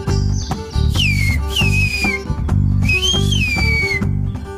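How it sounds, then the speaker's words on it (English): Piercing whistled language from the Black Sea region of Turkey, a loud sequence of sliding, rising and falling whistle tones in short phrases, heard over a steady background of music. "whistled language meets the communication needs in the region"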